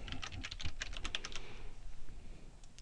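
Rapid keystrokes tap on a computer keyboard in a quick burst of clicks, then thin out to a few scattered presses against a faint background hum.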